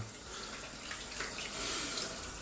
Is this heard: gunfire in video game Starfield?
no